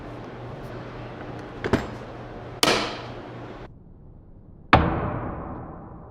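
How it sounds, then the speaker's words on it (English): Plastic tubing under hand-pumped pressure in a leak tester bursts with sharp pops, one mid-clip and a louder final burst that fades off, following quieter clicks and a steady low hum. "Continue pumping until the tubing bursts."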